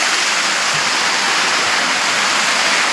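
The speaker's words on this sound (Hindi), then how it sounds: "ये बीच में से जो पानी की धार जो दिख रही है," Fast stream of water rushing between hills on the pilgrimage route to Vaishno Devi, a loud, steady broadband roar filling the whole clip without pause, close and unbroken, with no talking.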